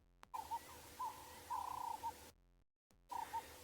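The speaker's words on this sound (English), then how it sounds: "just listen to the bird sounds and all the noises" Birds call repeatedly in the bush at Ngala Private Game Reserve, with low hooting notes coming in several short bursts. They sound distant and faint against a quiet morning background, broken by brief dropouts.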